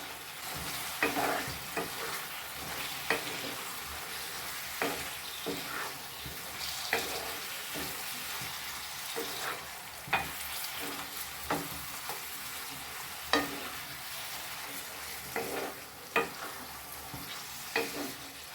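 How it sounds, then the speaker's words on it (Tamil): Minced chicken fries in a pan for a kothukari gravy while a spoon stirs it, giving a continuous sizzle broken by regular scraping strokes every second or so, close and clear, with no talking. "இப்போ இந்த சிக்கனை நல்லா கலந்து விட்டுடலாம்"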